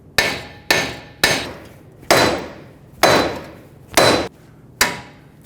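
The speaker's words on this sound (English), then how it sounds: "Using a mallet, hit around the outside of here to break the tie rod end free." Seven sharp mallet blows strike a Honda Pilot steering knuckle to break the tie rod end loose, spaced roughly evenly and each ringing briefly before fading, loud and close with no voices.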